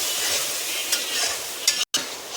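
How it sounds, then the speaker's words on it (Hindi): Masala spice paste with a little water frying in a pan while being stirred for a lobia curry, a steady close sizzle with a few brief scraping stirs and a short dropout near the end. "1 मिनट तक इसको मसाले को भून लेंगे, तब लोबिया डालेंगे।"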